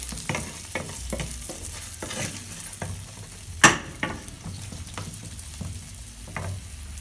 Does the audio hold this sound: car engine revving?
no